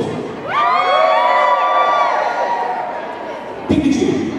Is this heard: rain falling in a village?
no